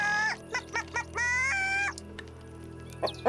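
A boy imitates a chicken with his voice, giving a run of short clucks followed by one long drawn-out squawking cluck, loud and close, then quiet.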